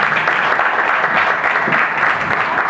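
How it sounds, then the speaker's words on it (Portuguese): An audience at a talk on sects breaks into sustained applause, a thick, even wash of clapping that holds at full strength from start to finish without any voices. "Palmas."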